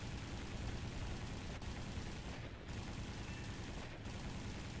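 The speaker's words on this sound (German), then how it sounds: "So, diese 20mm Kanonen sind viel besser als diese scheiß 7mm Kanonen." Rapid 20mm aircraft cannon fire from a fighter plane in War Thunder, a dense continuous rattle of shots under loud engine roar, with a couple of brief pauses before the bursts resume.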